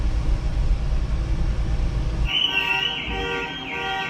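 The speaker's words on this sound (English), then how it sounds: "the usual backing audio of car alarms" A car alarm blares with a steady electronic warble over a low rumbling background, loud and continuous through the second half.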